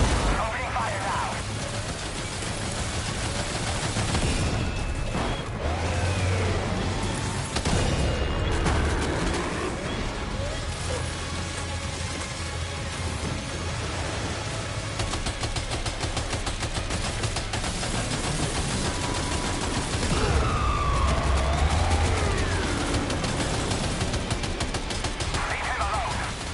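Gunfire from the video game Death Stranding 2 on PS5: sustained bursts of shots run through a dense, loud action mix, with a voice speaking over the fighting at times.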